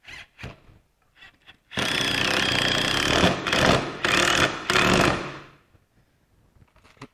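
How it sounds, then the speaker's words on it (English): A power driver sinks screws into the legs of a wooden workshop trestle, whirring loudly in a long continuous burst with brief pauses, framed by short taps and clatters of tools and wood before and after. "we're just going to drive 2 screws into each leg just to stop them from racking."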